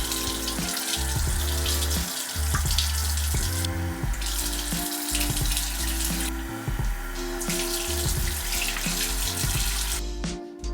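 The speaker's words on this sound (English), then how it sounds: "rinse with hot tap water until the water coming out is no" Hot tap water runs steadily into a sink while film is rinsed, a close, continuous splashing stream with brief shifts in the flow.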